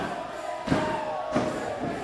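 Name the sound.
wrestling fans chanting in the arena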